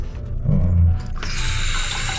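A cold-water tap in a basic bathroom in Matanzas, Cuba, is opened, and after a brief muffled knock a bright, steady rushing stream takes over, loud and close, with no one speaking.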